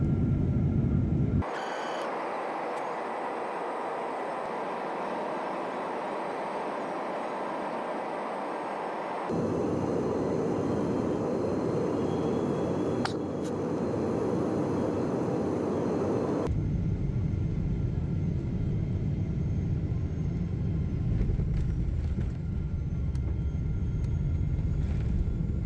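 A Thai Airways airplane cabin in flight hums with a steady, droning engine roar and airflow hiss that shifts level in a few abrupt steps, a constant wash of noise with no voices.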